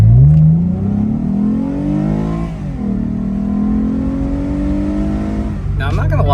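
A Lexus IS300 engine in Sport mode with a throttle controller fitted, revving up through rising pitch, easing briefly, then climbing again in a long pull, loud and close from inside the car, ending with a sharp shift.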